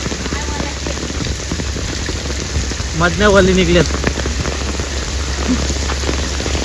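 Heavy monsoon rain pours down during a flood that has submerged a village bridge, a dense, steady roar throughout, with a voice speaking briefly over it partway through.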